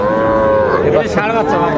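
A Sahiwal bull calf moos loudly and close by at a cattle market, one long drawn-out call with a strong tonal quality that wavers through its middle, with no talk over it.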